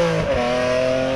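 A BMW M3 E46 with 360 horsepower revs with a loud, sustained engine tone that rises in pitch briefly before holding steady, heard close and alone.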